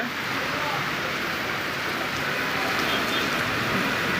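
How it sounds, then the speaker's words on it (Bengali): Steady rain falling in a city street, a dense even hiss of drops on surfaces that holds at a constant level throughout with no distinct voices. "রাজধানীর ভেতর কেমন বৃষ্টি হচ্ছে বৃষ্টিটা দেখানোর জন্যই আসলে প্রতিবেদন"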